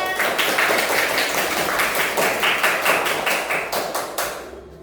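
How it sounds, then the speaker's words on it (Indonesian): A classroom of pupils claps together in a quick, regular rhythm of sharp, loud bursts that hold steady for several seconds, then thin out and stop near the end. "Tepuk tangan."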